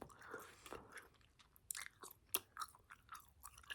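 Cold, hard chewing gum is chewed close to the microphone in quiet, soft-spoken ASMR, producing faint, wet, irregular chomps and small clicks.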